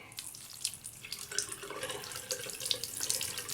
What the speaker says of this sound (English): I'm going to just remove the water from the bowl, but not all of it